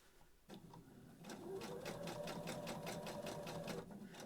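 A sewing machine stitches a fabric storage caddy in a steady, rapid mechanical run, starting softly and then settling into an even rhythmic clatter, close and loud.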